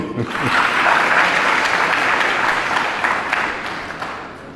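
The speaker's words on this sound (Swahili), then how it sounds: "Jipigieni makofi." Congregation at a Catholic Easter Mass in Tabora clapping together, a dense, steady burst of applause lasting several seconds before slowly tapering off.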